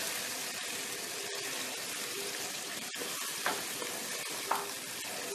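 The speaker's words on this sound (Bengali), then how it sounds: "এবার আমি মাংসটা ভালো করে কষাব।" Goat meat sizzling steadily as it is sautéed in a pan for a Kali Puja sacrificial mutton dish, with occasional sharper spatters and the scrape of stirring over a continuous frying hiss.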